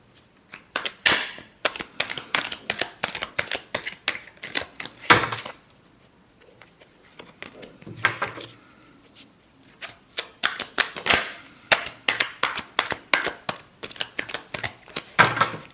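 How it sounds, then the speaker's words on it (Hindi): A deck of tarot cards is shuffled over and over in quick riffling bursts, each a rapid train of crisp flicks, with a short lull partway through before the shuffling resumes, close and clear with no voices. "Last shuffle."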